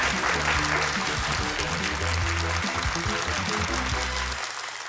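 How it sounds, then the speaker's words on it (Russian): Studio audience applauding on a Russian TV game show, a dense, sustained burst of clapping over music with a steady beat, tapering off near the end. "Аплодисменты нашей студии."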